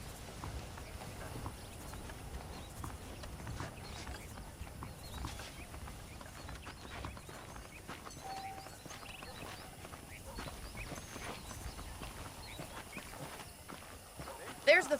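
Horse hooves clip-clopping at an easy walk in Red Dead Redemption, a soft, steady run of hoof falls mixed with ambient game sound and voices talking.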